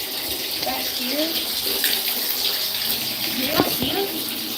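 A faucet runs hot water in a steady close-up gush and hiss, with a person speaking over the flow.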